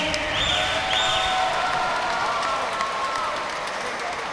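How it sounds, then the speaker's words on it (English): An audience at a local amateur fight night, Dragon House 19, applauds and cheers with dense, continuous clapping and crowd noise at a steady, fairly loud level throughout. "how about a big round of applause for the best fight of the night?"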